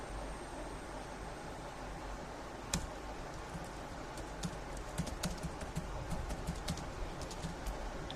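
Soft, rapid typing on a computer keyboard while entering code comments in C, light clicks clustered in a quick irregular stream under a steady background hiss.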